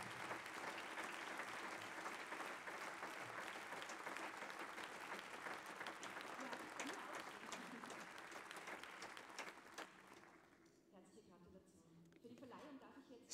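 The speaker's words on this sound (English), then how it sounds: "Please stand up so that we can applaud you for your great achievements" Audience applauding the nominees at the Simon Wiesenthal Prize 2023 award ceremony, sustained dense clapping that thins and fades near the end, with a voice briefly audible afterward.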